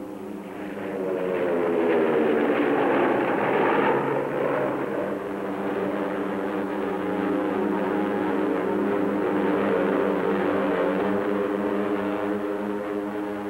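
A propeller airplane flies over a cold front, its engine drone steady and fairly loud for over ten seconds with layered harmonic tones that shift slightly in pitch, rising early and then holding at a constant level.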